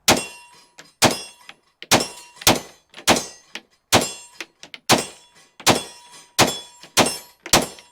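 Staccato XC pistol shots striking steel targets downrange, about ten sharp cracks each followed by a ringing impact, in a fast, even rhythm and close by.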